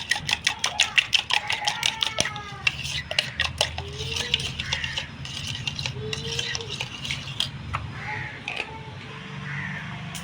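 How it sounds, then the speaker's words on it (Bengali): Yogurt with a pinch of cumin powder being whisked in a bowl for a restaurant-style doi begun, a close, quick run of clinking utensil strikes against the bowl at first, then softer, uneven stirring and scraping. "এই সবগুলো ভালো করে ফাটিয়ে নেব দইটাকে।"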